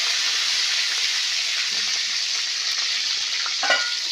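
Fresh leaves hiss and sizzle in hot oil in a kadhai while a vegetable dish is cooked, a steady bright crackle holding at close range for the whole stretch.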